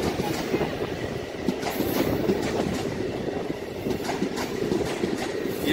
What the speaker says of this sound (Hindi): इसका ये रेक वाराणसी से बरकाकाना की तरफ जाता हुआ